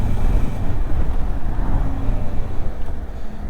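A Mutt Stravaig 400 motorcycle potters along smoothly in sixth gear at low speed, giving a steady, loud, low engine drone mixed with road and wind rumble, with no spluttering and no voices.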